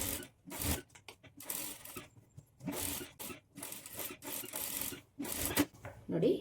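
A sewing machine stitches the lining to the main fabric of a padded princess-cut blouse in several short runs, with pauses and some handling noise between them and a voice occasionally talking.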